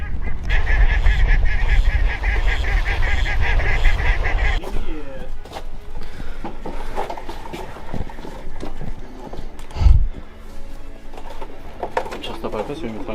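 Ducks being tied up at a hunting hide in the Médoc marshes, giving loud honking calls up close that fade after a few seconds into quieter rustling, thumps and scattered calls.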